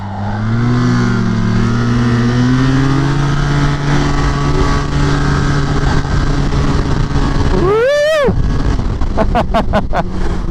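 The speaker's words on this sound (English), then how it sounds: "Nothing quite like a sled for acceleration." A loud snowmobile engine roars close by on a snowy trail at -3°F, its pitch climbing and sweeping as it accelerates hard, with rapid revving surges toward the end.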